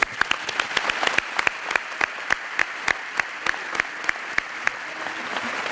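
Sparse applause at a school graduation for departing teachers, with a handful of individual claps standing out sharply over a softer wash of clapping, moderately close and fairly quiet.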